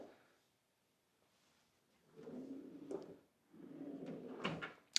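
Two quiet sliding rumbles from a soft-close drawer in a new modern farmhouse kitchen, each ending in a gentle muted stop.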